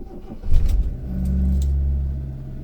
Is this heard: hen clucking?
no